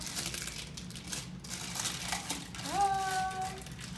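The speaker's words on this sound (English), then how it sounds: "Let's pull on the parchment paper a little, maybe." Parchment paper being pulled off freshly baked goods, giving a soft crinkling and rustling at moderate loudness, with a brief higher squeak or tone near the end.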